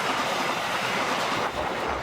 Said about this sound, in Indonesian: inilah detik-detik ketika ada kereta melintas ya